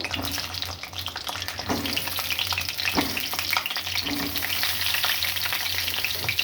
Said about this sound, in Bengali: এবার আমি এটাকে নুন হলুদ দিয়ে ভালো করে ভেজে নেব।